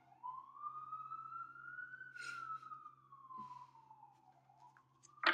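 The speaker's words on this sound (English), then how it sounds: "You don't mind sirens, do you?" A single distant siren wails, slowly rising and falling in pitch, faint and alone apart from a few small background noises.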